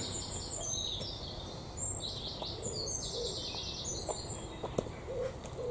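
Several birds sing and chirp outdoors at Peveril Point, bright warbling phrases repeating at moderate distance, with a low ambient rumble and occasional soft clicks beneath.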